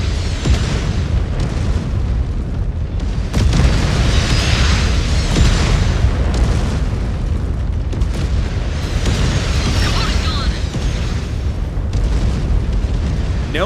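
An artillery hit lands on a Nova mech in the MechWarrior 5: Clans video game, a loud, sustained rumbling explosion with repeated booming swells over roughly a dozen seconds of heavy battle noise.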